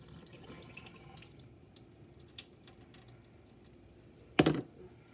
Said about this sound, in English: I'm going to pour it into the cheesecloth